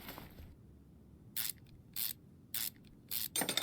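Crankshaft pulley coming off an engine in Car Mechanic Simulator 2021: four short, bright mechanical ratcheting bursts, evenly spaced, with a longer burst at the end over quiet background, and no talking.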